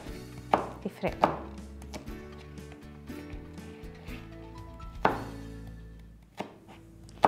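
A knife chops red onion on a board in a kitchen with irregular, sharp thuds, while someone talks briefly.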